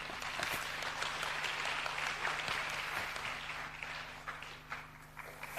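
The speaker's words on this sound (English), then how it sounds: "round of applause" Audience applause at an academic paper presentation, a steady wash of many hands clapping that carries on throughout and thins slightly toward the end, with a faint low hum underneath.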